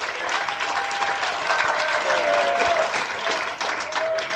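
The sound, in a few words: studio audience applause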